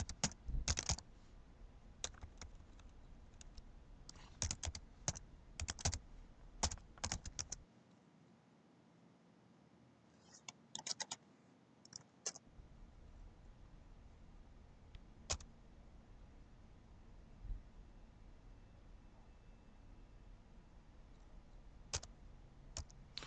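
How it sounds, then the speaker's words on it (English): Python code goes in on a computer keyboard as quiet, rapid clicking in uneven bursts, a lull in the middle, then scattered single key taps over a faint room hum. "I'm going to start typing"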